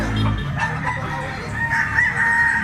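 A mature Lemon 84 bloodline gamecock rooster crows nearby, one loud drawn-out call that fills the clip, with no voices over it.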